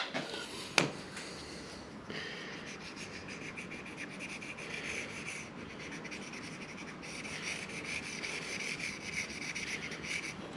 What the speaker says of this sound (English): We just scrape that blue section there.